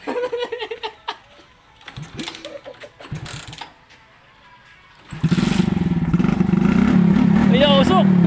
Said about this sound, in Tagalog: isa-sound check po natin ang motor ng aking kinakapatid